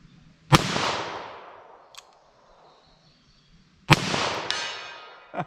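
Two loud .38 Special +P Buffalo Bore gunshots crack out about three seconds apart outdoors, each followed by a long echoing decay and a faint metallic clink.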